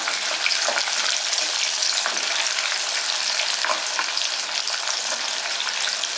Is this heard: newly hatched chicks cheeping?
no